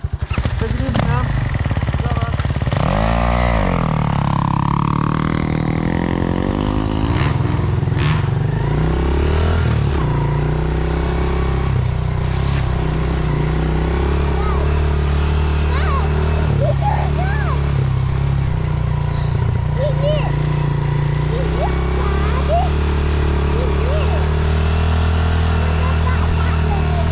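A dirt bike engine roars past on a trail, loud and close at first with a sweeping pass, then a steady drone as people talk over it throughout.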